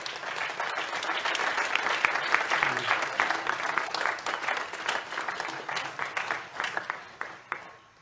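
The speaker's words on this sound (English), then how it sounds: "So please give another round of applause for the great members from the nation's capital," An audience applauds the singers at a concert, dense sustained clapping that thins out and fades toward the end.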